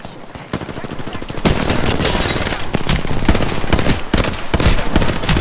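Hemlock rifle in Apex Legends firing in rapid bursts, loud and close, with dense overlapping shots and game action throughout.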